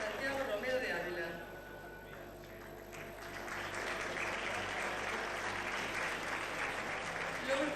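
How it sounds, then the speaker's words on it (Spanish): Audience applause at a 1997 Fiesta de las Letras ceremony in Tomelloso, steady dense clapping that swells and keeps going, heard from a distance in a large hall. "Un aplauso, por favor."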